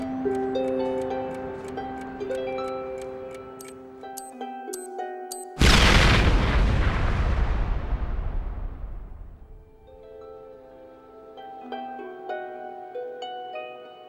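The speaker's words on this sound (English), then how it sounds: "The huge bomb blows a crater several meters deep." A huge bomb blast in Colombia hits suddenly as a loud broadband boom partway through, its roar trailing off over several seconds while music plays throughout.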